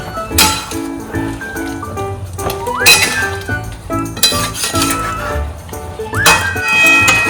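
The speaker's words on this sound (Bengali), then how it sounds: "এটাকে ভালো করে মিক্স করে নেব" A spoon stirs spices into a pot of chicken and vegetable stew, with metallic clinks and scrapes against the pan repeating over steady background sound.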